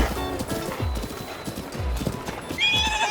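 A horse in Zelda: Breath of the Wild gallops with quick, heavy hoofbeats, then lets out a high whinny near the end.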